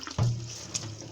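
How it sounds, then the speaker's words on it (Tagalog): A short splash of water poured into a pan of sardines being cooked, a brief run of liquid that fades quickly. "Lagyan ng konting tubig at"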